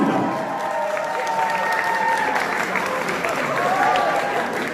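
Wedding guests applaud to welcome a singer at a ceremony in Daegu: sustained crowd clapping, moderately loud, with a voice and faint tones running under it.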